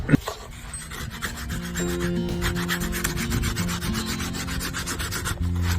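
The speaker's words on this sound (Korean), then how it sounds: "지금부터 그 사포질 작업을 들어가겠습니다" Coarse sandpaper rubs back and forth over a wooden puppet, a close, steady rasping scrape in quick repeated strokes, with no one speaking.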